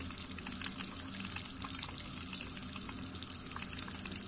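Steady rushing water flows from a tap fed by a geyser with an air lock, broadband and continuous, with faint irregular gurgles and sputters from air pockets mixed into the stream.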